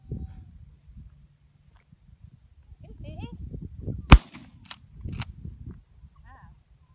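During gun-breaking training of a seven-week-old puppy, a single sharp cap gun shot cracks out at mid-distance amid light outdoor rustling, followed by a couple of fainter snaps.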